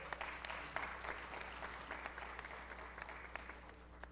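A large audience at an orientation event applauds in a steady, dense wash of clapping that continues throughout, somewhat distant and even in loudness.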